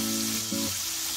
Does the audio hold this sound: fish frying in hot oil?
yes